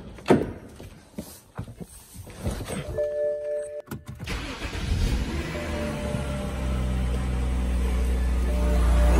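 BMW E90 engine cranking and starting after an oil change, preceded by scattered clicks and handling noises, then settling into a steady, close idle.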